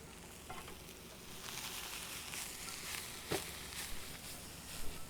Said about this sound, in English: So next in, get the shallots, get them toasting away.